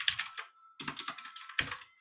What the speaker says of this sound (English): excuse the sound of my typing